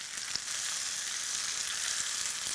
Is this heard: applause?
no